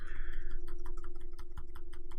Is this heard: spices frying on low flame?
no